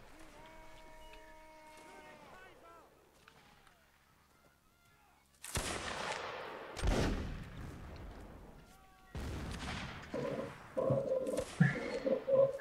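Loud musket volleys from Napoleonic Wars battles in Mount & Blade: Warband, several sharp blasts with long rumbling tails, after quieter game sounds and a brief lull.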